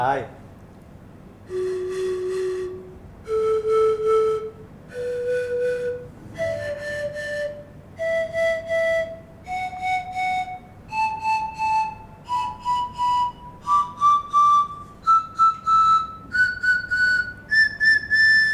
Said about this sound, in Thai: เป็นการเป่า หนึ่งครั้งให้ได้สามเสียง เริ่มต้นจากเสียงมี